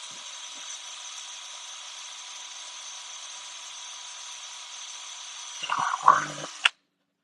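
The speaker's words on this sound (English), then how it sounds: "I feel bad for you guys having to deal with me drilling all this shit out" A power drill drilling out parts, a steady high mechanical whine running continuously for several seconds, then a few louder grinding bursts near the end before stopping abruptly.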